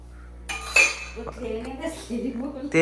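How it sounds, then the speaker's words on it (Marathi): Washed dishes and cutlery clatter and clink as they are put away and stacked at home, a run of close, bright knocks and rattles with faint voices in the background. "मम्मी इकडे भांडी धुतल्यात ती लावते"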